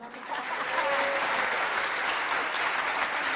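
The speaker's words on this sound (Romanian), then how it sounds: "Aplauze!" An audience at a New Year's artists' concert in Pucioasa breaks into applause, a dense, sustained burst of clapping that swells quickly and holds steady.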